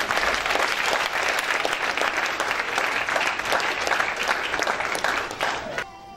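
Church congregation applauding, a dense, sustained wash of many hands clapping close and loud that thins out just before the end.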